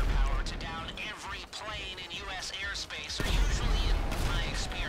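Gunfire and explosive bursts from Grand Theft Auto 5 during a heist prep mission crackle repeatedly while someone talks over the action, with a heavier blast near the end.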